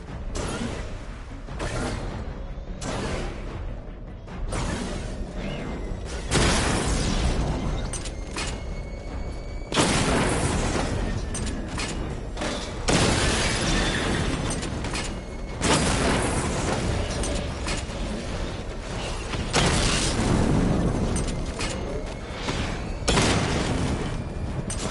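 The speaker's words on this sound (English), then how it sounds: "Charge up missile barrage to level 2 and destroy 4 active targets to complete diagnostic test." Missile barrage explosions in Batman Arkham Knight: a series of loud booming blasts that come in waves, each with a rumbling, crackling decay, over a constant mechanical background.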